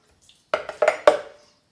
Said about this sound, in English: We're going to take our vegetables and we're just going to drop them in using a slotted spoon.